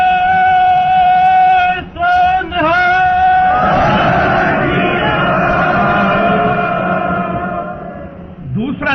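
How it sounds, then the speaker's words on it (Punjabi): A Sikh congregation raises a jaikara, a loud sustained chorus of many voices shouting in unison after a sung, echoing lead call, the massed cry swelling broadly in a reverberant space. "ਉਸ ਮੌਕੇ ਤੇ ਖੁਸ਼ੀ ਨਾਲ ਜੈਕਾਰਾ ਬੁਲਾਇਆ"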